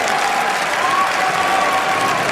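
A large crowd at the 2014 Pokémon World Championships video game finals applauds loudly and continuously, a dense wash of clapping with faint cheering mixed in, the audience on its feet.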